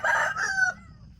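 A rooster crows once, loud and close, a single call of about a second fading out, with no talk over it.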